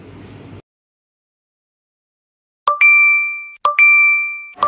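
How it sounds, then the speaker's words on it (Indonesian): Phone notification dings for incoming WhatsApp messages come in quick succession, two pairs of bright, ringing electronic chimes that sound close and loud, each tone sustained and slowly fading after a short moment of quiet. "siapa sih yang WA gua banyak banget ini? Notifikasi."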